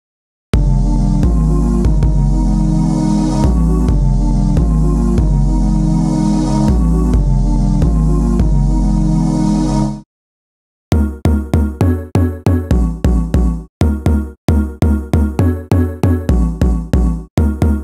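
A thick sustained synth pad stacked with deep bass samples plays a rhythmic pattern across drum pads, breaks off briefly, then returns as a series of short punchy stabs, loud and alone.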